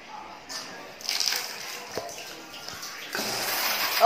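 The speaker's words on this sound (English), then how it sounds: "The water still works." A tap runs in an abandoned bathroom, a faint hiss of water that swells partway through and grows louder near the end, with occasional knocks and people talking quietly.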